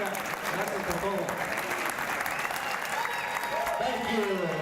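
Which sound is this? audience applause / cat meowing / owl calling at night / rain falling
audience applause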